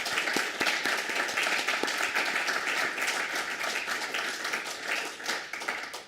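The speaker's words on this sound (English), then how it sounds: "perhaps we should applaud Patrick" An audience at a college lecture applauds continuously for several seconds, a dense even wash of many hands clapping at moderate distance, fading slightly at the end.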